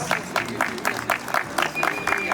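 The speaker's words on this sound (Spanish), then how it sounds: "¿dónde está el aplauso fuerte para los mayordomos de este año?" An audience at a Huaylia festival in Antabamba claps for the year's festival sponsors in quick, pulsing bursts, close and fairly loud, with some crowd noise mixed in.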